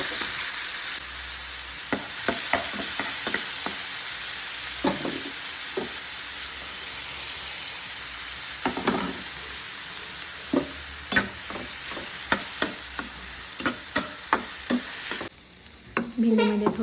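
A tempering of cumin, curry leaves and garlic crackles in oil, then chopped tomato and ginger fry with okra, giving a constant loud sizzle broken by repeated sharp spoon scrapes and clinks, with no talking.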